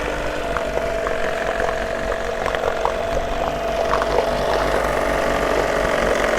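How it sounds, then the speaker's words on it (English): A 6 hp Johnson two-stroke twin outboard motor idles in gear, a steady close mechanical drone with light rattling ticks, running evenly throughout with no talk. "nice 2-stroke twin working really smooth on a nice idle mixture over here."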